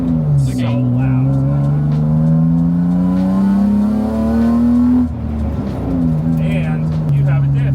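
Loud engine of an abandoned BMW car roaring close up with a steady, rising revving drone, a brief dip near the middle, with voices faintly present underneath.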